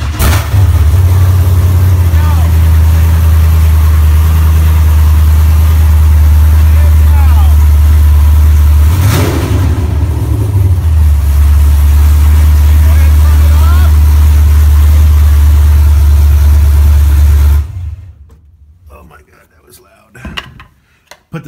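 A Chevrolet Nova fitted with keyless push-button start idles with a loud, steady low rumble for a long stretch, then the engine cuts off abruptly and leaves faint background noise.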